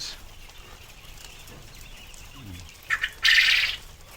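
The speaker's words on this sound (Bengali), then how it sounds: "এগুলো হচ্ছে এক জাতের পাখি" Farmed quail birds give a few sharp, loud calls in quick succession toward the end, following a quieter stretch of faint background noise and soft low sounds.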